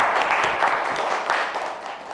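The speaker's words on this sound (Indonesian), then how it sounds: "tepuk tangan" A dense, steady wash of clapping fills a classroom during a teacher-training practice lesson in Indonesia, holding at an even level throughout without any voices standing out.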